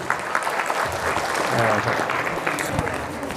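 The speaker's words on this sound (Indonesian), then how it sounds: "tepuk tangan buat Teddy" A small gathering applauds for Teddy during a Ramadan gathering, a dense patter of many hands clapping at once, close and steady, with voices talking and calling out through it.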